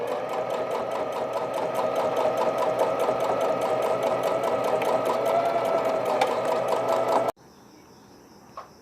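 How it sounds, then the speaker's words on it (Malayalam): A sewing machine stitches both sides of a small pair of baby underwear in one long, steady, rapid whir that stops abruptly, leaving a quiet room. "ഇനി രണ്ട് സൈഡും സ്റ്റിച്ച് ചെയ്യുക."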